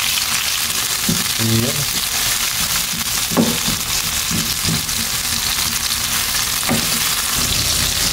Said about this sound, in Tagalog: Saute the onion and tomato.